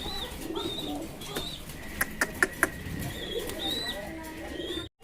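Fancy pigeons cooing softly nearby, with brief higher chirps and a quick run of sharp taps partway through.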